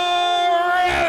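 A wrestling crowd in an arena roars and yells loudly during a ring introduction, a sustained massed cheer with rising shouts toward the end.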